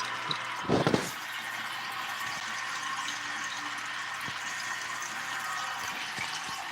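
Water added to a guppy fish tank, a short splashing gush near the start followed by a quiet, steady trickle and soft bubbling with occasional faint drips, no talking.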